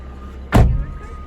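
A home door gives a single quick thud as it is opened, close and fairly loud, with a low room hum before and after.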